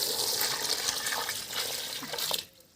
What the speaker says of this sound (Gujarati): પાણી નખાઈ ગયું આમાં